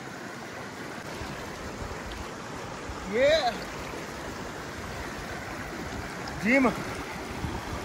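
A mountain river in the hills rushes steadily, a broad continuous roar of flowing water close by. Two short vocal sounds rise briefly above it.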